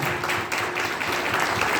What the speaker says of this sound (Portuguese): Celebra o Senhor, aplauda Ele mais forte que Ele puder